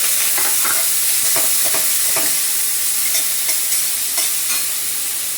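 Onion hits hot oil already tempered with cumin, bay leaf and curry leaves, giving a loud, steady, close sizzle with occasional stirring clicks.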